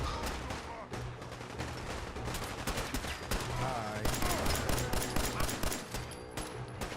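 Repeated gunshots and bursts of fire during Fallout 4 combat, sharp cracks landing close together over several seconds amid rumbling game noise, with a voice heard at times underneath.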